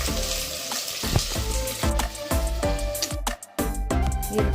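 Garlic and onion fry in a pan for mutton sambar, giving a steady close sizzle broken by regular stirring scrapes and clinks, with a short dip near the end and no voices.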